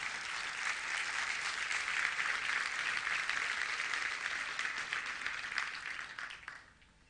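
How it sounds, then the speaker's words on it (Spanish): A church congregation claps loudly and steadily during an evening service, a thick continuous patter of many hands that swells and then tapers off near the end. "Dele un fuerte aplauso a Dios en esta noche."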